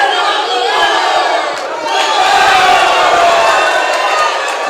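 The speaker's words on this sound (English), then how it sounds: "As the crowd now getting behind Ramirez, chanting well" A boxing arena crowd roars and chants in a loud, sustained wall of cheering that swells and holds steady throughout, with no break in the noise.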